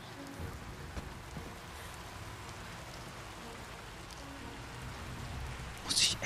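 Rain patters steadily against the camera lens in the Rise of the Tomb Raider video game, a dense, even hiss with a brief louder splash near the end.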